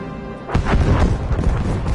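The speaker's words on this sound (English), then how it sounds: "Bomb got that tank, I think." A bomb explosion hitting a tank in Battlefield V conquest, a sudden loud boom after a quiet moment, followed by a rumbling, crackling tail that carries to the end.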